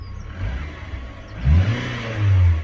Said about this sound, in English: I'm not going to rev it properly, but